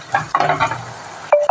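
Curry leaves are stirred into garlic sautéing in a pan, with a few brief scraping and clinking strokes of a utensil over a soft sizzle, ending in two sharp metallic taps.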